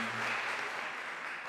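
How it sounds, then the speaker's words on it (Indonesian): Applause from an audience at a documentary film workshop: a steady wash of many hands clapping together, evenly loud throughout the short stretch with no distinct individual claps standing out. "Untuk itu tepuk tangan dulu buat semuanya."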